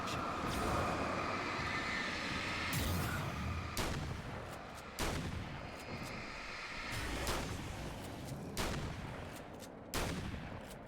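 Shotgun blasts firing buckshot in Alan Wake's American Nightmare, several loud booming shots at irregular intervals, each with a sharp attack and decaying tail over a dense, noisy background of game ambience.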